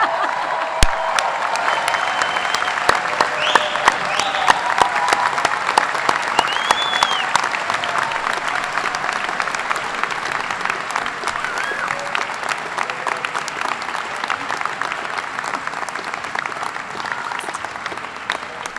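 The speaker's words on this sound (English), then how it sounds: "Now you can applaud." A large audience applauds the new osteopathic medicine doctors at a graduation ceremony, with sustained dense clapping from a big hall that carries on evenly and eases slightly toward the end, with a few faint voices in the crowd.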